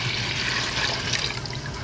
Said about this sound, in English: So let's put 1/2 liter of water in here.